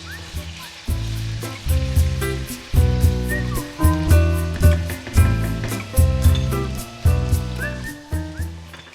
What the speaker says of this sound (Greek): Σοτάρω για λίγα λεπτά ακόμα.